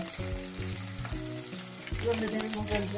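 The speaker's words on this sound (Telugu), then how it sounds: "ఆనియను ఆల్రెడీ కట్ చేసుకున్న ఆనియన్ సో ఇలా ఫ్రై అవుతుంటుంది అనమాట" Chopped onions fry in a pan for a Telugu leafy-greens fry, giving a steady close sizzle. Strong tonal music plays over it, and no one speaks.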